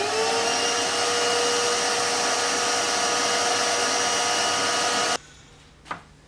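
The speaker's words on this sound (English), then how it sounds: "I'll just hoover that out so you can see it." A vacuum cleaner roars loud and steady while sucking up foam dust cut from a VW Crafter motorhome's rear door panel, then shuts off abruptly, leaving a short clatter in the quiet.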